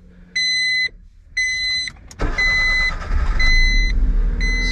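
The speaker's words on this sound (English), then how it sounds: "That beeping I was about to say is killing me." A used black JDM car with 166,000 km starts up with a burst of engine noise, preceded and accompanied by repeated loud electronic warning beeps in regular chimes.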